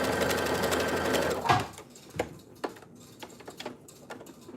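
Sewing machine stitching at close range, a fast whirring run of the needle that stops after about a second and a half, followed by scattered clicks and handling knocks in a quiet room.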